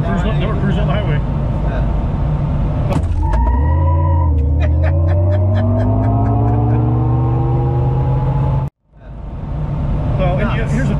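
A 2022 Hummer EV pickup accelerating onto a highway, its electric motor whine rising in pitch under steady road and wind noise, loud and close inside the cabin, with a brief drop near the end.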